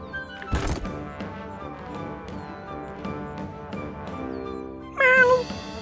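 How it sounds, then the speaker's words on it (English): A cat meows in a SpongeBob Minecraft animation, a short rising and falling meow near the end, heard after a sharp thud and a soft low background hum. "Meow."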